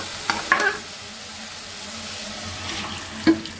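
Vegetables for a papaya and hilsa curry go into a hot pan after the hilsa fish has been fried with spices, giving a quiet, steady sizzle with a couple of sharp stirring clatters and no talk.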